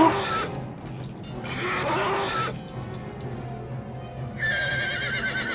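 A horse in the game Neverwinter Nights whinnies several times in shrill, drawn-out neighs, with a low rumble of background noise underneath.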